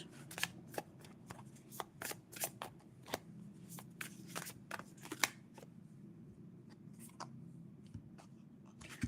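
Crisp tarot card shuffling, a rapid riffle of papery snaps and flicks repeating in bursts over a low background hum, close and fairly quiet.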